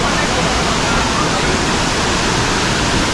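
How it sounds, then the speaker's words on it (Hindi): A small waterfall at Langvoku in Karbi Anglong, Assam, rushes in a dense, steady broadband roar, close and loud with no pauses. "इस तरफ भी एक छोटा सा वाटरफॉल है"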